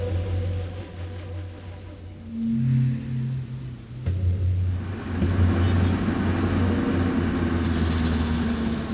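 A van moves through Manhattan traffic in 1993, its engine giving off a steady mid-pitched rumble with slight revving swells, close and continuous with no voices.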